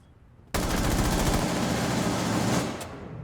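Rapid automatic gunfire in a shooting video game, a burst of about ten shots in quick rhythm lasting two seconds, loud and close, then a single fainter shot.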